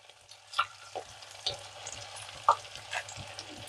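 Fish pieces shallow-fry in a little oil in a pan over a medium flame, giving a faint, low sizzle broken by a few sharp clinks as they are nudged around.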